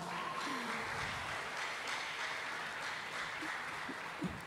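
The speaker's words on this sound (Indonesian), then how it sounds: "Berikan tepuk tangan yang meriah untuk kita semua" Steady crowd applause fills the space, a dense wash of clapping that holds at an even level throughout, with a few brief voices faintly audible beneath it, at an opening-night ceremony.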